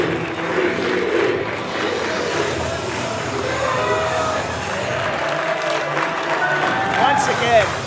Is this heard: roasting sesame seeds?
no